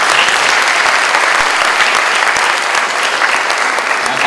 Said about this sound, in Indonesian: mari kita tepuk tangan untuk